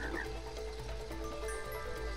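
A frog croaks in a short run of repeated, throaty calls set against a constant background hum, near and moderately loud, with no voices.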